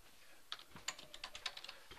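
Brief run of computer keyboard typing as a formula is entered into an Excel spreadsheet, with about a dozen light, close clicks in a quick uneven rhythm and no talking.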